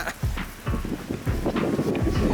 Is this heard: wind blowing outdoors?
yes